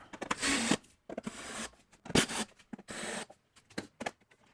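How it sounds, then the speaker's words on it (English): Screws being driven tight into curved wooden seat pieces, several short bursts of a power driver with brief pauses between them, close and fairly loud, with no talking. "And I'll drive the screws tight."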